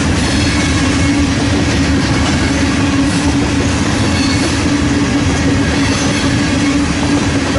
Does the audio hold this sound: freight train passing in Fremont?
yes